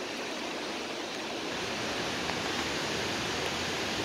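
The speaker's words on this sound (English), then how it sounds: "I'm hearing that water." Flowing water in a stream near a cave gives a steady, unbroken broadband rush, continuous and fairly close, with no voices.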